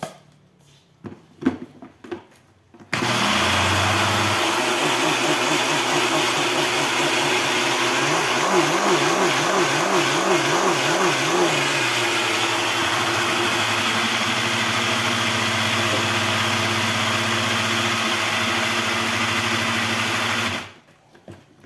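A blender grinding salt starts abruptly and runs loud and steady for about eighteen seconds, its pitch wavering midway, then cuts off; brief sounds before it starts.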